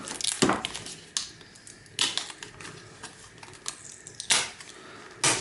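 Double-sided tape being pulled off a tablet circuit board during scrap disassembly, a series of sharp peeling snaps and clicks spaced irregularly over a quiet background.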